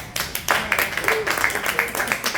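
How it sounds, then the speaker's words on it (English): A comedy club crowd at a stand-up show claps in a dense round of applause, with sharp individual claps rising out of the wash while a voice talks over it. "Every big round of applause for Kelby."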